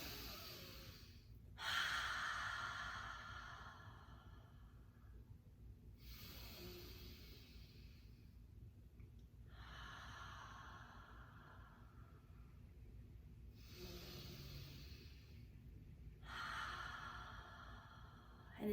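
Slow, deliberate breaths during a guided breathing exercise, each inhale and exhale a soft airy rush separated by quiet pauses, repeating about four times at an unhurried pace, close and with no talking.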